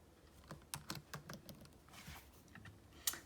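Computer keyboard being typed on to enter a label in a text box, producing a quiet run of separate key clicks with small pauses between them.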